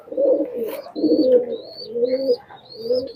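A domestic desi pigeon coos loudly and close up in four distinct rolling phrases separated by short pauses, with a thin high chirp over each phrase and no voices.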